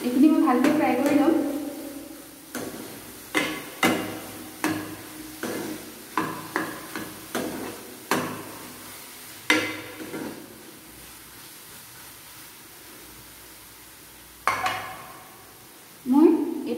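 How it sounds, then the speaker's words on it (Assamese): Soybean chunks frying in a pan for soyabean curry, with a run of sharp regular clacks from a spatula stirring against the pan over a faint sizzle, then a lull before a few more scrapes. "এইখিনি মই ভালকৈ ফ্ৰাই কৰি ল'ম।"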